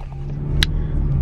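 Steady low road rumble fills the interior of a car on the move, a constant engine-and-tyre drone with a couple of faint clicks and rustles near the microphone.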